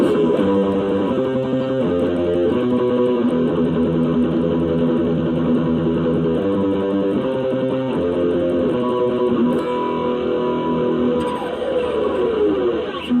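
A dense, distorted electric guitar riff tremolo-picked on sustained open G low notes, rapid repeated picking, loud and continuous, no voices.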